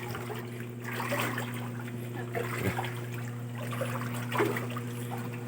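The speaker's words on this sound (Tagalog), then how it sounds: "Grabe laki ng tubig." Floodwater from typhoon Kristine flows steadily, a continuous trickling, splashing rush near a flooded house with a low hum running underneath.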